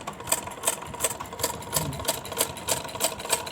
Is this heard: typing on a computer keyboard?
no